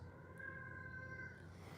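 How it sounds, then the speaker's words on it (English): A domestic cat screaming indoors, one drawn-out tonal wail held for over a second, faint and somewhat distant over a low background hum. "There's my cat screaming."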